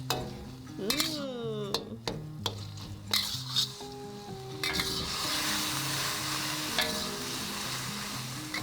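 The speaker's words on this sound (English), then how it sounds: "We're gonna cook this pork until it turns a dark brown in color." Ground pork browning in a hot wok for Ma Po Tofu, a steady close sizzle with repeated scraping and clinking of a spatula against the pan, no talking.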